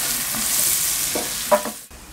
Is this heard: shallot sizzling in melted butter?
yes